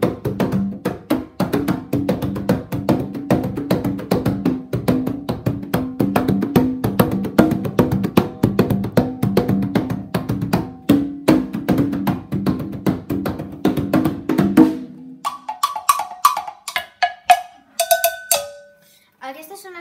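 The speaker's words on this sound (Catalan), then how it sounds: "Aquestes són les congas. És un instrument de membrana i és de so indeterminat perquè no pot reproduir notes." Congas are struck by hand in a fast, continuous pattern of sharp membrane slaps and booming tones for about fifteen seconds, then the rhythm breaks off and a few scattered brighter hits follow near the end.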